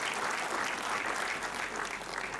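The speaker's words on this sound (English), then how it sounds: "I want to give a big applause to the whole" Steady, dense applause from an audience at a dental college graduation ceremony for a batch of new dentists, continuous and even throughout with no voices standing out.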